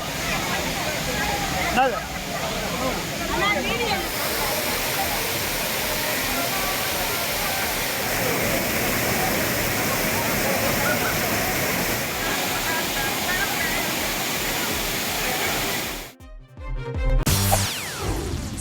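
Water pours steadily and loudly at the Thirparappu waterfall, where tourists bathe. The rush stays constant with a voice talking over it, then cuts off abruptly near the end.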